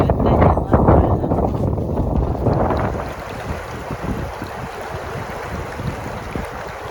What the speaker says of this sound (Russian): Ветер тут такой, что он вот сейчас несет палатку.